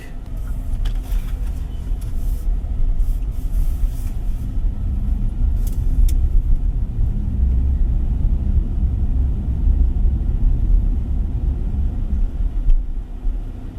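Steady, subdued road and tyre rumble fills the cabin of a 2026 Kia EV5 electric car driving in eco mode, a constant low hum with no engine note and no talking.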